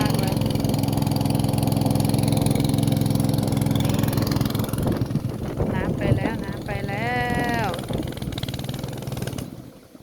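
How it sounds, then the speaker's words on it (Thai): A small engine warms up and idles on a windy day with a constant low, throbbing rumble. A voice talks briefly over it before the sound trails off. "เราต้องอุ่นเครื่องก่อนอุ่นเครื่องก่อน"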